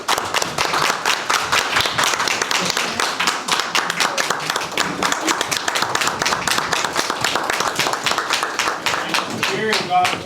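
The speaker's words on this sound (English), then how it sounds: "let's give them a round of applause" Audience applauding at a Hope City board meeting, dense, steady clapping from a roomful of people lasting about ten seconds, close and loud, with no voices over it.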